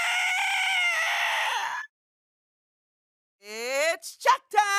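A voice imitates a mighty eagle battle cry with a long, strained screech, then after a silent gap gives a second rising, squawking cry that breaks into shorter yelps, close and loud.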